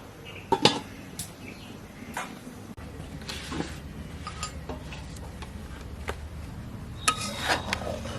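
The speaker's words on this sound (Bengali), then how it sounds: "এখন ঢাকা দিয়ে দেবো।" Lid set on a cooking pot of hilsa pulao, a few sharp metallic clinks and clatters close by, scattered among lighter kitchen taps and rattles.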